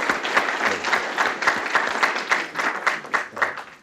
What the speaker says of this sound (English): we've got to give the panelists first before we go to Q&A a round of applause.